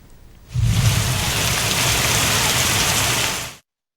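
A heavy rain and hailstorm pounds down in Jagtial, Telangana, knocking mangoes from trees: a dense, loud, steady roar of falling water and ice that starts abruptly and cuts off after about three seconds.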